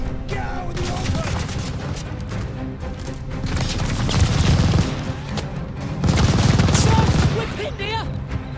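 Machine gun fire in the Call of Duty Vanguard campaign rattles in dense, sustained bursts, with heavier booms and crashes mixed in during a loud, chaotic firefight.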